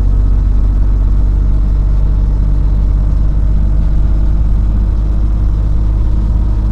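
A Dongfeng truck descends a mountain grade with its engine brake engaged, the engine roaring loudly and steadily in a dense low drone from inside the cab without letting up.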